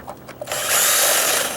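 Power drill spinning a cutter to ream out a hole in deck wood during a dry rot repair, a few short bumps, then a loud continuous whirring grind close by.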